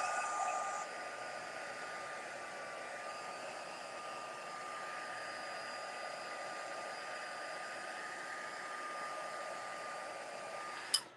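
Hair dryer blowing steadily to dry paint on a stenciled painting, a continuous even whoosh and whine held for about eleven seconds before a click as it switches off.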